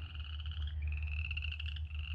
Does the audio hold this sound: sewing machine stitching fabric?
no